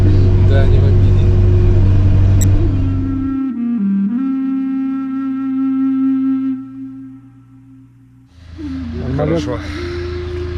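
A car's engine rumbles deep and steady as it drives along the road, the low drone dropping away midway and returning near the end, with people talking over it inside the cabin.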